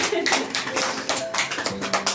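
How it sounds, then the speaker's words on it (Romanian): An audience in a village gathering in Ursoaia applauds a young boy, a steady patter of many hands clapping at close range, moderately loud, with voices mixed in. "să-l aplaudăm și pe el"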